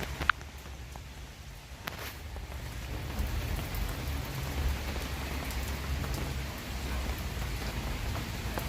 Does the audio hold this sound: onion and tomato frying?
no